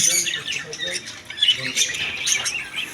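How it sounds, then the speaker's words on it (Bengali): Budgerigars in a pet bird and aquarium shop squawk and chatter continuously, several birds overlapping in a busy, close-up chorus. "এদিকে আছে অনেক সুন্দর সুন্দর কালারফুল বাজরিকা পাখি"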